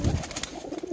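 Kasoori pigeons coo from a loft, a soft low burbling call rising close by, then fading to quieter murmurs for a brief moment.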